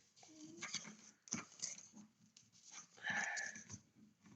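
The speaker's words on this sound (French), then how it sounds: "il faut que je sorte mon chien parce qu'il va m'embêter" A dog indoors gives faint whimpers and snuffly panting amid a low, noisy room background, with a hint of voices.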